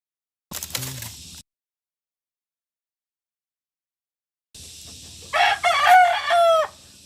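A rooster crows near a village ceremony, with chickens clucking in short bursts separated by a long silent gap, the crowing loud and close.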